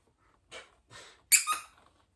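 A squeaky dog toy squeaks four times in quick succession, with two softer squeaks followed by two louder, sharper ones that are close and clear against a quiet background.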